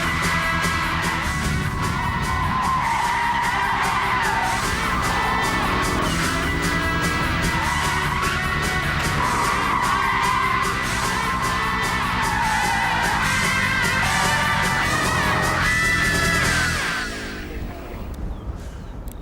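An American heavyweight cruiser car drifts hard with its rear tyres skidding, giving a loud, continuous tyre squeal over a roaring engine that carries on for about seventeen seconds before it suddenly drops away.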